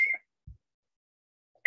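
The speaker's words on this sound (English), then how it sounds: "my phone's just ringing" A mobile phone rings with short, faint electronic tone bursts at the start and the end, separated by near silence.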